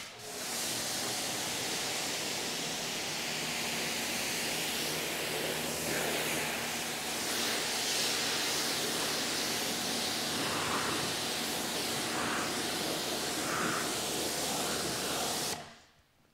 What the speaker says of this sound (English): So let's get this thing rinsed down, get that big layer of dirt off,